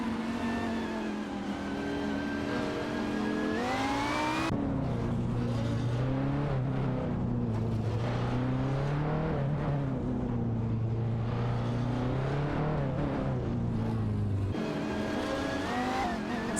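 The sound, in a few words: race cars including Maserati MC12, from a racing video game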